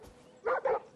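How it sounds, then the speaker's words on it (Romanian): A dog in the video game Far Cry New Dawn gives two quick, soft barks close by, brief and fairly quiet against low game ambience. "Am aici un câine."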